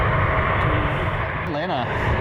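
A fully loaded Southwest airliner rolls down the runway for takeoff, its engines giving a loud, continuous roar at an airport, while people talk over it.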